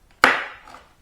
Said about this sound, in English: to detach these 3 upper parts from these Velcro elements